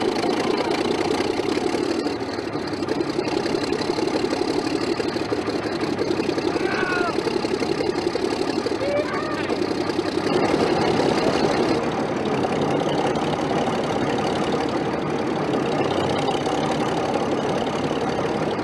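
A restored old diesel engine, started for the first time in ten years, runs with a loud, steady, rumbling idle and a rough, knocking mechanical texture that continues unbroken.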